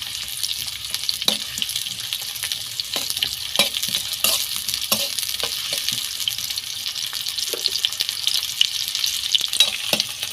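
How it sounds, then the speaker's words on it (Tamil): Chopped onions fry in hot oil in a pan, giving a steady crackling sizzle with scattered sharp pops and light stirring scrapes, close and continuous with no voices. "இப்போது ஒரு பேனில் தேவையான அளவு ஆயில், எண்ணெய் சூடானதும் இதில் நறுக்கி வச்ச ஆனியன் ஆட் பண்ணிக்கிறேன்"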